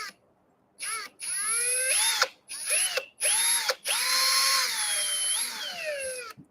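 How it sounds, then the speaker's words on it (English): A power drill whines through polyurethane in several bursts, its motor pitch rising and falling as the trigger is squeezed and released, close and fairly loud with brief pauses between runs. "polyurethane doesn't take much to drill through it"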